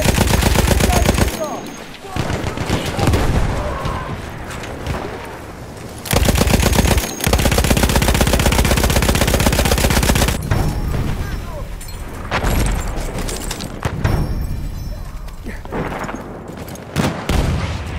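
A Lewis gun fires in a video game battle on the Volga River in long, rapid machine-gun bursts, loud and close, broken by short pauses, with voices and other gunfire mixed in.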